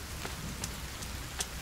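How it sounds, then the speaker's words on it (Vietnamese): Rain falls steadily in the survival video game The Forest, a soft continuous patter with a few faint droplet taps and no talking. "Có mưa luôn, có mưa."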